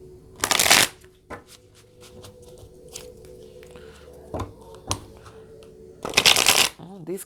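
Tarot cards being shuffled in two loud riffling bursts, one near the start and one near the end, with softer card handling and a voice talking in between.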